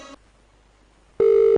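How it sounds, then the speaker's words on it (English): A telephone call tone: a short electronic beep, then a pause and a longer steady ringback tone, clear and close. "Oluyole, why are you answering the phone?"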